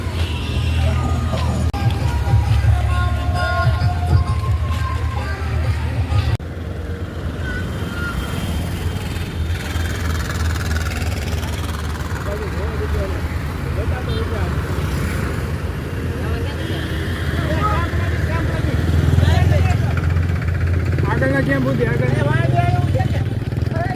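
A tractor engine runs steadily nearby at a roadside seva camp for pilgrims walking to Ambaji, a continuous low rumbling drone that shifts slightly in pitch, with people talking over it throughout.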